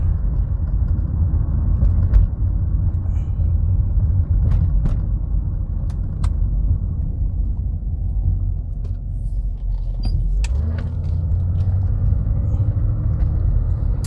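Cabin of a 2006 Cadillac DTS Luxury II while driving: a steady low road rumble throughout, scattered with faint interior clicks and light knocks of trim rattling against itself.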